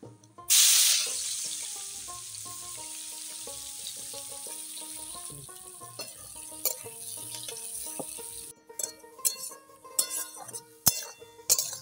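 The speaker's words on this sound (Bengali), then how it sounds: "এবার দিচ্ছি পেঁয়াজ কুচো।" Chopped onion hitting hot oil left from frying pomfret, with a bay leaf and dried red chillies, bursts into a loud sizzle, then settles to a steady fry with clinks of a spatula.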